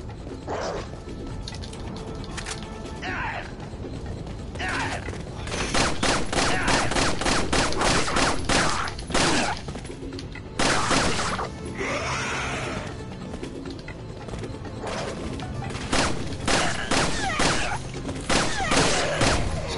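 Rapid bursts of gunfire from a gun in Resident Evil 4, repeated volleys of close, loud shots with short gaps, layered over other in-game noise.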